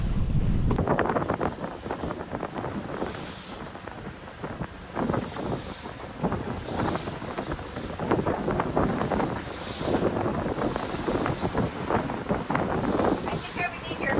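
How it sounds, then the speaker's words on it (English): An express cruiser's engine idles at sea in rough water, a low rumble beneath steady wind buffeting the microphone and the slosh of waves, with voices talking now and then. "it's idling right now"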